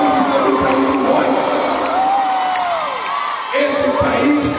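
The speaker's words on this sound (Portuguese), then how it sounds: "Vocês estão aplaudindo aqui o governo por apenas 4 meses de governo." A large crowd at a political rally with Lula in Ceará cheers and applauds loudly and continuously, with whoops and shouts rising over the steady roar throughout.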